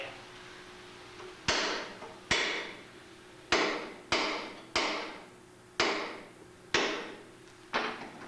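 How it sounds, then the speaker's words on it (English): Eight sharp metallic hammer strikes land at uneven intervals, each ringing briefly, as a screwdriver is pounded through a car's oil filter up close during an oil change. "take this handy screwdriver and a hammer here, pound a hole through the filter"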